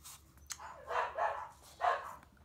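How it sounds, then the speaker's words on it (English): Indoor dogs bark in a few separate bursts at moderate volume, with a brief quiet stretch between the barks. "I know they're barking because my cleaning lady just got here."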